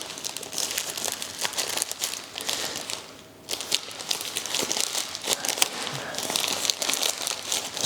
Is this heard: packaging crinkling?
yes